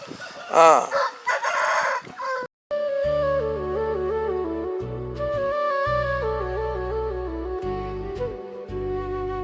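A fighting rooster crows once, close and loud, in the first couple of seconds; then a short gap and steady music fills the rest.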